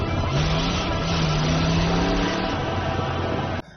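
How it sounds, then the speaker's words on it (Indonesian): A motorcycle rides away, its engine droning loud and steady with a slight rise in revs before the sound cuts off abruptly near the end. "Kemudian Aditya pergi dengan sepeda motor."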